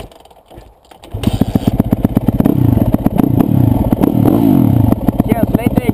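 Yamaha YZF250 enduro motorcycle with a GTYR flywheel starts quietly, then revs hard from about one second on, loud, close, rising and falling throttle blips with clattering mechanical noise.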